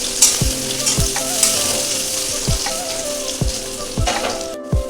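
Onions sizzle steadily in a pan of hot oil for a dal, with a few spatula scrapes and stirring knocks punctuating the dense frying hiss.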